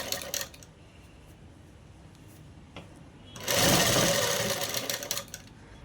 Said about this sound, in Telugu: పై కుట్టు అనేది వేసేసుకోవాలి.